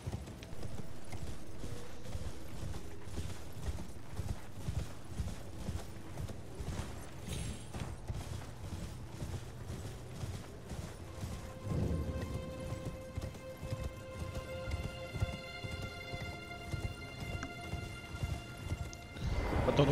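A galloping horse's hooves pound in quick, continuous rhythm in Elden Ring, close and prominent, before the pace gives way near the end to a sustained tonal game effect layered over the hoofbeats.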